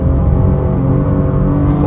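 A 2024 Cadillac XT6 Sport with all-wheel drive pulls hard on an open road, its engine giving a loud, steady rumble that holds close and continuous without a break.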